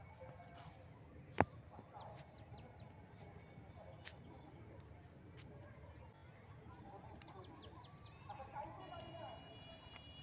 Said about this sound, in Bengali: পাখি, এক ঝাঁক পাখি। পাখিগুলো সব এখন বাসায় ফিরছে।